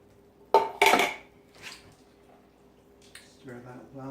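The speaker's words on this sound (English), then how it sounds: "Stir that well, get everything incorporated." Tomatoes are stirred in a metal cooking pot, giving a few sharp clanks and scrapes of a utensil against the pot, then softer movement, before a voice speaks near the end.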